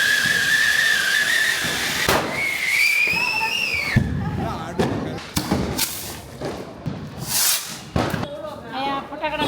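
Firecrackers bursting during Diwali celebrations, with loud thumps and sharp bangs at irregular intervals, mixed with whistling rockets and ongoing chatter from nearby people.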